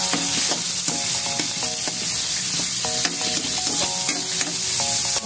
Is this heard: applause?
no